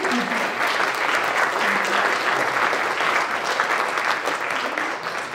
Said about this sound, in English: So round of applause for these sponsors who make this happen.